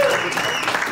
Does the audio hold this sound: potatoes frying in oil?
no